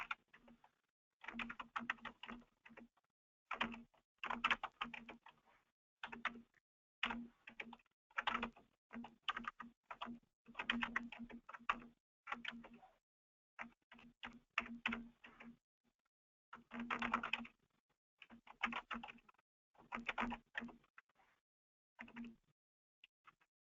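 Bursts of typing on a computer keyboard while a name is entered into an online grant application form, quick clicking runs separated by short pauses, close and clear with no talk.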